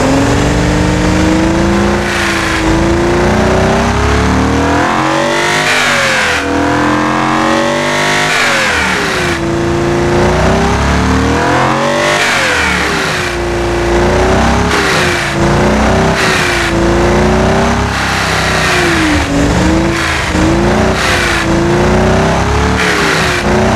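A 60-degree V engine in the racing-car game Automation revs repeatedly, rising and falling in pitch with loud, sustained mid-range growl and no talking over it.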